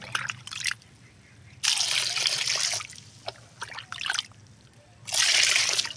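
Water soaked with vegetable peels poured from a mug, liquid fertiliser mixing for plants, in three separate gushing pours with quieter drips between, close and clear.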